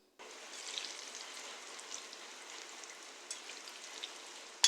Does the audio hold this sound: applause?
no